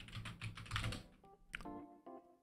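Quiet keystrokes on a computer keyboard, a quick run of clicks followed by a couple of separate taps, faint and close.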